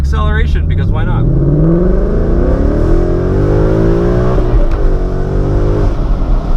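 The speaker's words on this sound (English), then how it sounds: "we'll go ahead and do one more little acceleration, because why not?" A 2018 Ford Mustang with a new aftermarket exhaust accelerates hard, its engine note climbing steadily in pitch through the run with a brief shift near the end. A person speaks briefly at the start.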